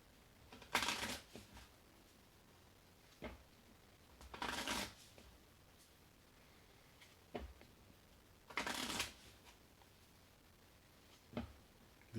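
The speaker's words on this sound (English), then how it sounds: "So we'll get this shuffled up." A deck of cards for the solo board game LXI Waking Nightmare is shuffled in three quiet riffle bursts, each followed by a soft tap, with near silence between.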